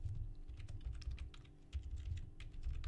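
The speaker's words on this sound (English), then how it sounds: "See what I'm typing." Quiet, rapid keyboard typing, a flurry of soft key clicks at close range with brief pauses, no voices.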